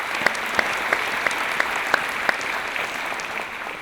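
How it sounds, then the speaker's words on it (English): A seated audience in UCLA's Royce Hall applauds student marshals at a 2023 doctoral hooding ceremony, a loud, dense wash of clapping with a few sharp, distinct claps standing out near the start before it gradually thins. "One more round of applause for our amazing student marshals."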